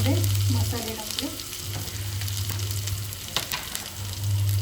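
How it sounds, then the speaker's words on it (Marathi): Spices for misal pav fry in hot oil in a pan, giving a steady close sizzle with light stirring clatter throughout. "आता ह्याच्यामध्ये मसाले टाकले"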